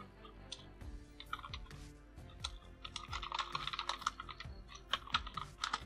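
Fingers type steadily on a computer keyboard, writing a short message in a Facebook page auto-reply setting, with dense close-up clicking that speeds up into quick bursts of keystrokes.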